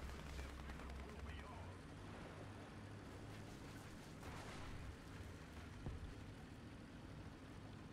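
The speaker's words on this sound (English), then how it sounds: "I heard machine gun fire from Rofio over there" Distant machine gun fire in War Thunder, heard from an SU-85A tank: faint, steady bursts under a constant low engine rumble, with no clear separation between shots.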